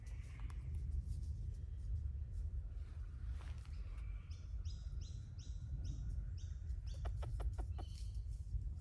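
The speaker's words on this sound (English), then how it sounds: "This little magpie is quite close." Magpie calling close by outdoors, a run of bright repeated warbling notes with a few sharp chirps near the end, over a steady low rumble of background noise.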